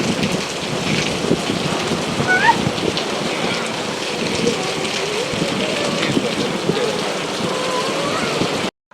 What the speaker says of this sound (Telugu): వర్షం వచ్చేటప్పుడు ఆ సౌండ్ ఆ స్మెల్ చాలా బాగుంటుంది కదా